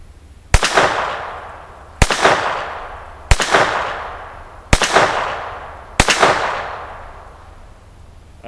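A Ruger Mark III handgun fires Winchester .22 LR rounds outdoors, five loud, sharp cracks spaced about a second and a half apart, each with a fading tail.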